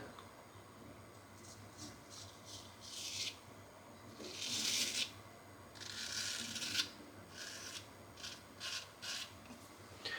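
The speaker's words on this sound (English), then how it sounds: "First strokes with the Gold Dollar 66 with a Hams Hendricks hone on there." Quiet, repeated rasping strokes of a Gold Dollar 66 straight razor, honed on a Hans Hendricks hone, scraping across lightly prepped facial hair; short scratchy passes come in irregular bursts close to the microphone with no talking.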